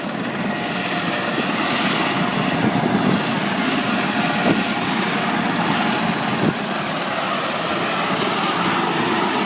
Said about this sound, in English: They land nice and slow, don't they? That looks like one of those Russian helicopters.